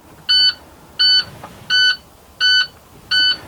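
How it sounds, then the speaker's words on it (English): Five sharp electronic beeps from a truck's low air pressure warning buzzer repeat at a steady rhythm, evenly spaced and loud, with a faint background hum between them. "Warning light and buzzer has activated."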